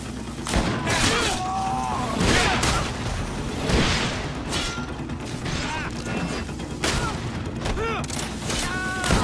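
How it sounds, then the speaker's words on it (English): A grenade blast and gunfire in the fantasy RPG GreedFall, with dense bursts of shots and booms layered over loud battle noise and shouting voices. "Watch out! Grenade!"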